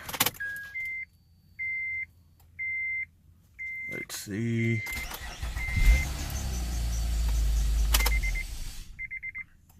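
Several short electronic beeps, then an Acura TL V6 engine cranks and catches, settling into a steady idle with a brief voice and a few chimes near the end.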